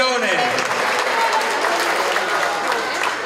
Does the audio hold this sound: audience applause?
yes